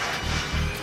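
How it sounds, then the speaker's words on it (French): Micrometeorites strike a spacecraft hull in a brief burst of harsh crashing impacts, loud and close, lasting under a second. "Des micrométéorites."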